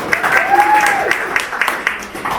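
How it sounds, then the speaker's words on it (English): A small audience at a magic demonstration gives a short round of applause, patchy claps scattered over a faint background with a brief tonal sound early on. "Give him a big round of applause."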